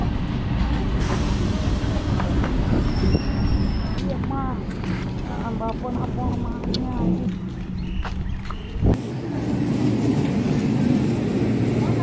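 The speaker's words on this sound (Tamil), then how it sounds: "இப்போ வர்ற இந்த ட்ரெயினில் தாங்க நம்ம டிராவல் பண்ண போகிறோம்." A train pulls into Chengalpattu station on the Chennai Egmore route, filling the platform with a loud, steady rumble and broad rail noise for the whole stretch, while voices murmur in the background.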